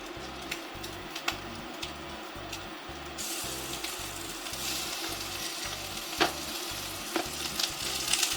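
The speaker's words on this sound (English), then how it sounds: "I'm going to go ahead and start these meatballs that are already formed cooking" Already-formed Italian meatballs fry in a pan with a steady, close sizzle, broken by a regular rhythmic stirring or ticking pulse and a few sharp pops; no one speaks.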